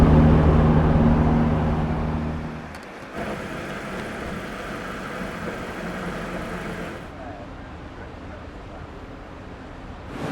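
A small car driving along a desert road in the Sahara, its engine droning steadily with heavy wind buffeting the microphone; the rumble dips briefly partway through, then continues at a steady, fairly loud level.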